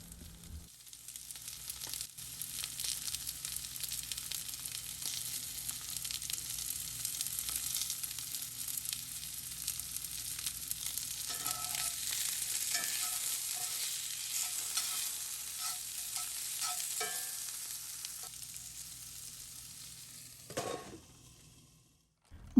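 Potatoes and onions fry in a pan, seasoned with pepper and garlic salt, giving a steady, close sizzle that holds for a long stretch, with occasional soft scrapes and clinks of a utensil before it fades near the end.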